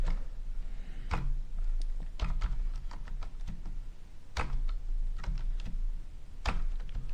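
Keys clatter steadily on a computer keyboard as code is typed, irregular clicks in quick clusters with brief pauses, close and moderately loud with no one speaking.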